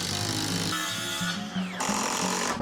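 A power driver drives wafer head screws into barn timber during a 19th-century barn restoration, with a whining motor that stops and restarts in short bursts, close and loud, and no talking.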